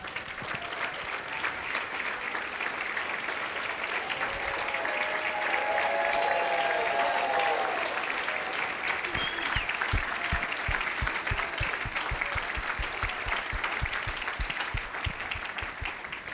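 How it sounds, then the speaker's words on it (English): A live audience applauds servicemen and women of the U.S. Armed Forces as they stand: dense, sustained clapping fills the room for the whole stretch, steady and fairly loud, with no talk over it. "I didn't have to ask them to clap."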